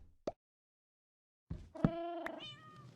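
Cat in Minecraft meowing, a brief tick followed by silence, then a clear close meow and a second one, fairly loud and alone.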